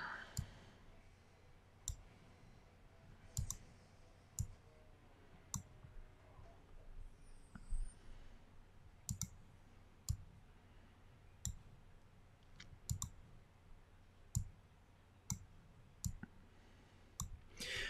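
Sharp, isolated computer mouse button clicks repeat at irregular intervals of roughly a second over a quiet background, each a crisp near tick while a maze generator is operated.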